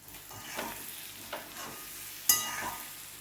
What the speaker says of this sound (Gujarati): 2 કે 3 મિનિટ માટે આવી રીતે એને થોડાક શેકી લેવાના છે બધા મસાલા સાથે।